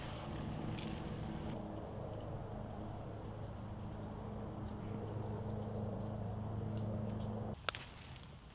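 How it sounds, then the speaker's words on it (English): Low droning motor of a boat passing on the water, steady and moderately distant, ending with a sharp knock or clatter close by. "That's the first boat I've seen go by."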